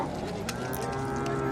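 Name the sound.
cow mooing at livestock market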